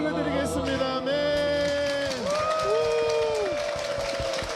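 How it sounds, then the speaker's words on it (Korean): A church congregation applauds during a worship service, with the clapping running under voices and tonal music or singing. "주님께 영광의 박수를 드리겠습니다"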